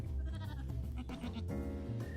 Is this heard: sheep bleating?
yes